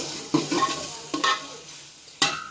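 Tomatoes are stirred into frying onions and veg biryani masala at a street food stall, with a low sizzle under several close scraping stirs and a sharp utensil clack near the end. No talking.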